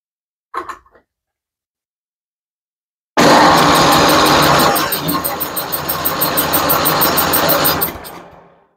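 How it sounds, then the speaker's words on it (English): A Tecumseh snow blower engine with a new carburetor, on a Toro 828LE, cranks and briefly sputters close by, loud and rough for about five seconds after a short earlier pull, then dies away. "I'm going to put a little bit more fuel in the intake and see if it starts up."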